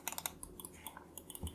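Quick, light clicks from a Secret Gear ZX1 or ZX2 computer mouse button, close up, in an irregular series of sharp taps with brief pauses between them.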